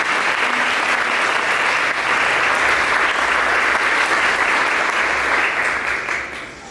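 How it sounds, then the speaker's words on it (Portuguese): A church congregation gives sustained, dense applause after a scripture reading, holding steady for several seconds before tapering off at the end. "Uma salva de palmas à palavra de Deus."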